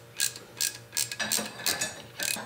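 Screws being tapped into the mounts of a new replacement fan for a Sub Zero 700TC refrigerator give a quick series of ratcheting, clicking mechanical bursts, close and fairly loud, with no talking.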